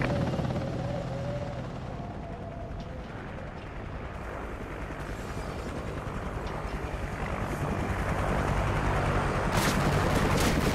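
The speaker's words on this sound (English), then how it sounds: "Friendly chopper inbound." A friendly helicopter in the video game Call of Duty Ghosts produces a steady rotor roar that grows slightly louder toward the end, mixed with scattered distant gunfire.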